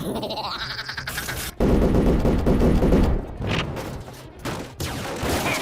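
Rapid bursts of gunfire in a Transformers video game battle, loud sustained volleys broken by brief gaps, with a short whirring electronic sweep at the start.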